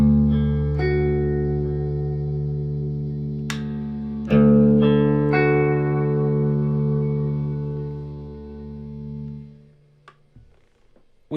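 Clean electric guitar through a Fender Pro Reverb amp, for a Pine-Box Customs Coyote Brother pedal check: sustained chords ring out with a few picked notes and restrikes, decaying toward the end with a short bump of handling noise.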